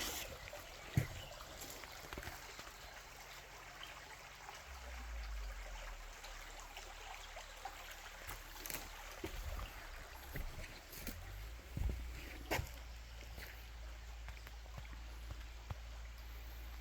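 Water flowing in a small stream under a bridge, a faint steady trickle and gurgle with occasional splashes, mostly alone in a quiet outdoor setting.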